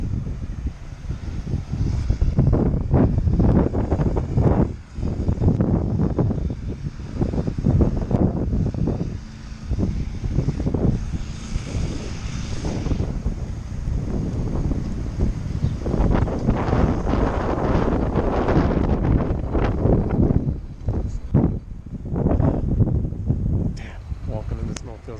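Strong blizzard wind buffets the microphone continuously in loud, roaring gusts while someone walks outdoors, with a voice talking through the blustering.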